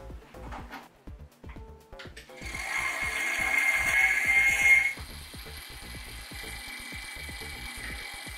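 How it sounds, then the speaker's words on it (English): PC case fan inside a Lian Li O11 Dynamic build rattling against a cable, a rapid clicking ticking chatter close by that rises into a louder whirring rattle midway, no talk. "There is definitely a very unhappy rattling fan sound. Sounds like it's hitting a cable or something."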